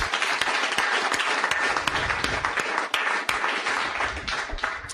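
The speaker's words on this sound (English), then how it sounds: "So give yourselves a big round of applause." A live audience of about fifty people at a film screening gives a sustained round of applause, dense clapping filling the room steadily with a few sharper claps standing out.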